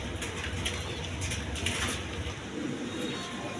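Pigeons at a pigeon breeding farm cooing softly in low, repeated throaty calls, close by, over light background rustle.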